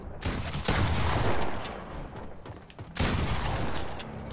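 Gunfire in the Fortnite video game: dense bursts of shots rattle for over a second, pause briefly, then resume loud and close, with no talking over them.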